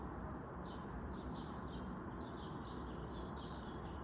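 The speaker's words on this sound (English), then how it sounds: "I'm sitting out here and I can hear the birds chirping" Small birds chirp in short repeated bursts at a distance over a constant wash of outdoor background noise.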